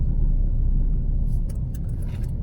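Steady low road rumble of a car engine in heavy traffic on Show Boulevard, heard from inside an MPV doing delivery work, loud and continuous with faint higher hiss near the end.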